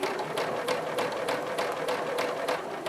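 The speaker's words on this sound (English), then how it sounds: "So I'm just going to, let's see, stitch down." A sewing machine stitches down a quilt block for a Greek-key grid design, running steadily with a fast, even mechanical chatter throughout and no talking.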